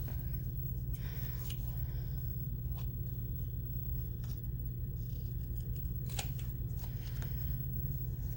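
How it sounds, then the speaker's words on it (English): Scissors snip through paper for a Christmas tag in a few quiet, separate cuts over a steady low background rumble. "Let's try the scissors."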